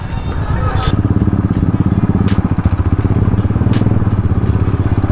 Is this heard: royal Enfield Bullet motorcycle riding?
yes